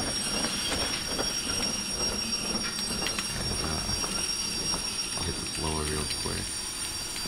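A steam train in the video game Derail Valley rumbles steadily with rhythmic clattering and a brief squealing whistle-like tone near the end, over continuous background noise and some voices.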